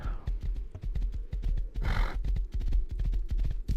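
A thoroughbred horse in the survival game Rust clip-clops in a steady, loud rhythm of hoofbeats, with a brief whinny-like burst near the middle.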